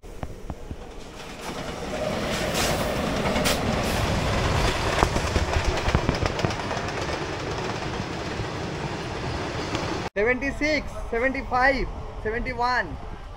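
A local electric train runs at speed with steady rumbling and rattling wheels for about ten seconds, then a voice speaks briefly over the quieter ride.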